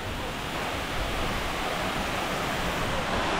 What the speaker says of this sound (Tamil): அப்படியே அங்கே இருந்து அப்படியே தண்ணி விழுது பாருங்க.